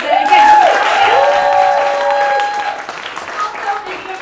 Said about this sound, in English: So round of applause for Benj